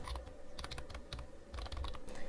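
Rapid typing on a computer keyboard, a quick irregular run of close, crisp key clicks, with no voices.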